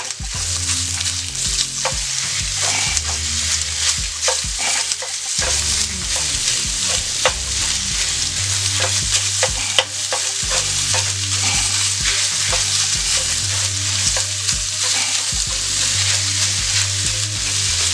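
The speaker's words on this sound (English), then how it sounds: "Sausage is browning up nicely." Sausage sizzles steadily in a cast iron skillet while a utensil scrapes and chops through it, with repeated sharp knocks against the pan over a constant frying hiss.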